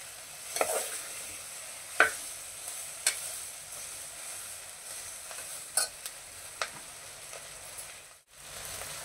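Vegetables for pav bhaji sautéed in a pan, a steady soft sizzle broken by sharp scrapes and knocks of a spoon stirring at irregular intervals, close and alone without voices.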